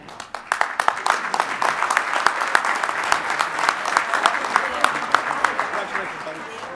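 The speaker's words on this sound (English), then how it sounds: "once again, can we give a big round of applause for Casey Veach?" An audience applauds at an awards event, sustained clapping with sharp individual claps throughout while voices murmur underneath.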